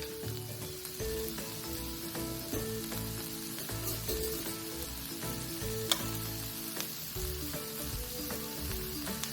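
Minced garlic, a little over a tablespoon, sizzles and fries steadily in a hot pan while a dinner from pantry staples is cooked. Occasional clinks sound from stirring over the constant close frying hiss, with no voices.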